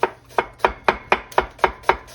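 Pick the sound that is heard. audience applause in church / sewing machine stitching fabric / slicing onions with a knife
slicing onions with a knife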